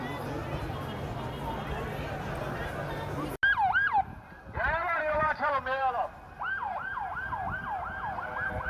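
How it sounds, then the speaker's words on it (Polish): Ambulance sirens wail in fast, repeating up-and-down sweeps as emergency vehicles rush to a bomb attack scene in a city centre, heard after a cut from busy street noise, with a voice talking over them. "Na miejsce zdarzenia natychmiast ruszyły karetki."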